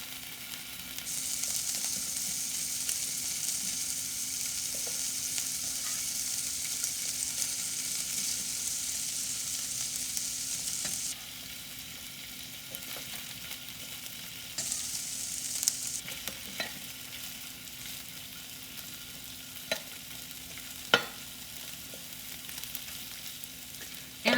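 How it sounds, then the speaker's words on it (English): Sliced Spam sizzling in a pan for a teriyaki stir fry, a steady loud hiss of frying that drops off briefly and returns, with occasional pops and spatters and no talk. "I'm going to fry this up in a couple of batches because I don't want to overcrowd"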